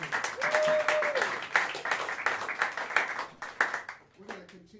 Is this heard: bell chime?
no